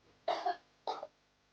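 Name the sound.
coughing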